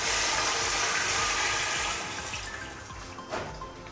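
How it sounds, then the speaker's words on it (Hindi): Yakhni stock is poured steadily into browned beef in a pot for pulao, a loud, continuous rushing splash that eases off toward the end, with no talking. "अब इसमें मैं डाल देती हूँ यखनी"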